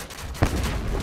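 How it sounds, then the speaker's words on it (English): Bombardment in the War Robots video game: one heavy blast lands partway through, followed by a dense rumbling roar of continuing fire, loud and close. "Bombardment."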